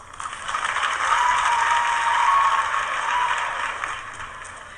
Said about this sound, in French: on s'applique et on applaudit avant que ça commence